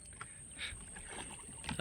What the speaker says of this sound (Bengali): ধারে ধারে নৌকা চলছে